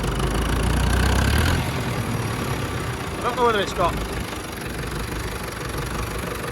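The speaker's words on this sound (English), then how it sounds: "Must do about 30 or 40k, which is pretty quick for a vintage tractor." A vintage David Brown Cropmaster tractor engine runs with a steady, continuous rumble at close range, and someone speaks briefly over the engine's drone.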